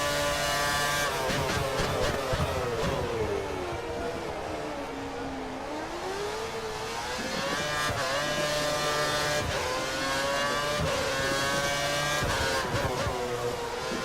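Formula 1 race cars in the F1 2013 video game at the Shanghai circuit scream past with high, rising and falling engine whines and gear shifts, loud and continuous, with several cars overlapping.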